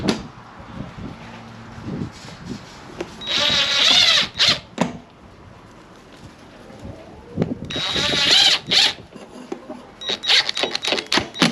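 Power drill driving screws into a tripod deer feeder during assembly, with two loud whirring bursts and a shorter third, separated by clicks and handling noise.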